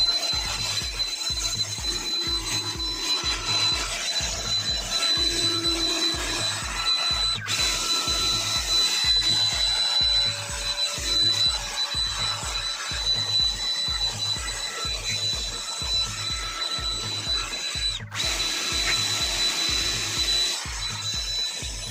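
A rechargeable leaf blower clears fresh snow in front of a house in Canada after a snowstorm, giving a loud, steady motor whir with a fast rhythmic pulsing throughout and no talk.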